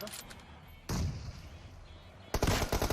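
Gunfire in the PUBG Mobile battle game: two loud, sharp bursts of shots, one near the one-second mark and a heavier cluster near the end, over a quieter bed of game noise.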